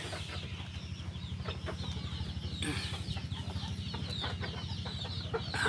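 Egyptian Fayoumi hens clucking steadily as they feed from a bucket, a dense, continuous flock chatter close by with occasional sharper calls over a constant background hum.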